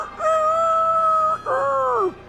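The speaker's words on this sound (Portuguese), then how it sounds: "Ah, eis o galo que cocorica três vezes." Cock-a-doodle-doo of a rooster in a theatre stage show, loud and near: a long steady held note followed by a second bending, falling phrase, about two seconds in all, with no talk over it.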